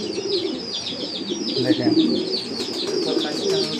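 Black racing pigeons cooing in cages, close and fairly loud repeated throaty coos with some chirps, while someone talks briefly over them.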